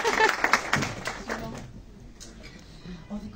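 Applause from the audience at a book presentation during a 2023-'24 Imaginarium graduation, a short burst of clapping that fades within a second or two as voices continue over it.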